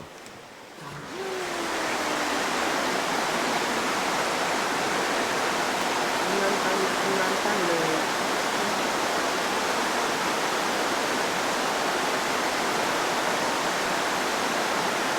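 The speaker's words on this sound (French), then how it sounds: "Ah, la rivière qu'on voyait pas hier." A river rushes in a steady, loud, unbroken wash close by, with a few faint voices briefly audible over it near the start.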